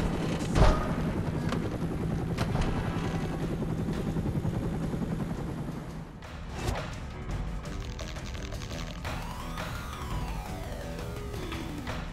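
A helicopter in the action video game Stranglehold, its rotor chopping steadily and loudly, broken by a sharp crash early on and a heavy impact partway through, then a sweeping whine as it continues.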